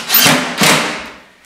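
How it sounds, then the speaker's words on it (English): Power screwdriver driving screws to fix a kitchen cupboard to the wall during a U-shaped kitchen installation, two short loud whirring bursts close by. "Now just all we need to do is just literally screw the cupboard"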